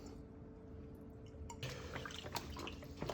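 Vinegar is poured over raw goat meat in a home kitchen, giving soft dripping and trickling liquid sounds close by, with a few brighter splashes toward the end.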